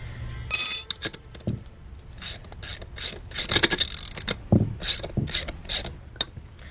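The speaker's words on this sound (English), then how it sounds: "Then you just come here and unscrew that bolt." A ratchet wrench unscrews a bolt on a Subaru rear differential, making quick bursts of close metallic clicking with short pauses between the runs of clicks.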